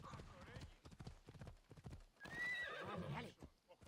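Horse in Assassin's Creed Odyssey whinnies loudly and shrilly midway, after a run of steady clip-clopping hooves, with someone talking over the start.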